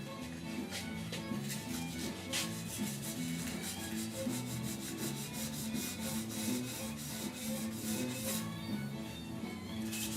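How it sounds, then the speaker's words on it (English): Sandpaper on a hand block rubs back and forth over primer on the rusty roof of a 1969 C10 truck, a steady, close scratching rasp that never stops. "all it takes is a piece of sandpaper"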